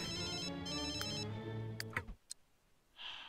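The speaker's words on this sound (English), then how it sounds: "Answer the phone, come on," A phone rings in The Sims 3, sounding a bright repeated electronic ring twice in quick bursts, followed by a few soft clicks and a brief airy swell near the end, with no talking over it.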